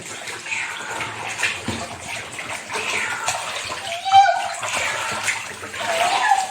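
A duck is scrubbed and rubbed by hand in salted water, giving close sloshing, splashing and wet rubbing sounds, with someone speaking over the washing.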